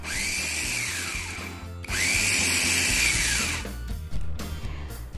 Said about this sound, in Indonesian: Kemudian kita giling sebentar, teksturnya kasar,